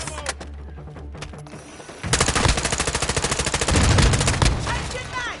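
Sustained automatic gunfire from Modern Warfare II, starting sparse and scattered, then erupting into loud, rapid bursts that continue to the end, with game effects layered on top.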